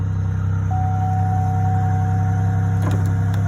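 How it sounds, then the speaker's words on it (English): A 2002 Chevrolet Impala with a 3.8 engine idles roughly just after startup, a loud, steady low hum with a faint whine through most of it and a few small clicks near the end. "Vehicle has not been running a long time, so that's why it's kind of running a little rough"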